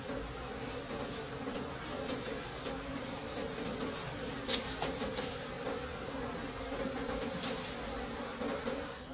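Many bees swarm at a forest honey harvest, a dense, steady buzzing drone close by with a brief sharper buzz as one passes near.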